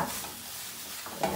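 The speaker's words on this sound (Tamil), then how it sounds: "நல்லா கிளறி" Spoon stirring thick carrot halwa in a pan, soft scraping with a faint sizzle, quiet and brief with a louder scrape near the end.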